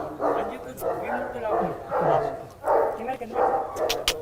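Dogs at a farmhouse with a mini zoo bark in a rapid series of loud, close barks in a steady rhythm, mixed with yips.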